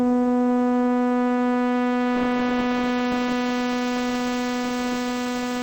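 A steady synthesizer tone with a filter envelope whose sustain has been raised, so the cutoff drops partway and then holds open. The sound brightens about midway and stays sustained and loud, with no talk.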